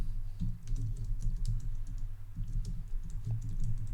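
Rapid, irregular clicks of typing on a computer keyboard, soft and close, in short bursts with brief pauses.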